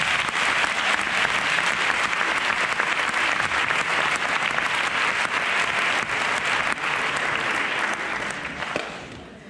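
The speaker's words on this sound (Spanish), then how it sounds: "Recibamos con un fuerte aplauso a Antonio Valero" Sustained audience applause at a TEDx event welcoming a speaker to the stage, a dense, steady roar of many hands clapping for about nine seconds before fading at the end.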